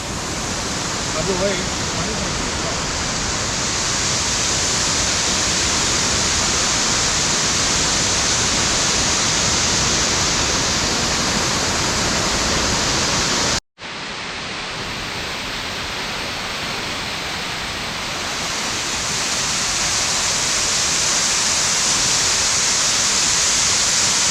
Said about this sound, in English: here finally I see Indrani waterfall